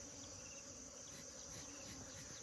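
Wild bees buzz in a dense, steady drone at a hive being smoked on a farm project, a continuous close hum with no voices.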